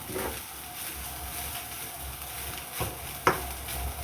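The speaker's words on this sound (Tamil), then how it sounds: "இதை நல்லா கிளறி விட்டுட்டு அப்புறம் கடைசியாக சிக்கன் போடலாம்." Chicken fried rice, not yet holding the chicken, stirred in a pan over a soft steady sizzle, with a few scraping strokes and one sharp clink of the spatula near the end.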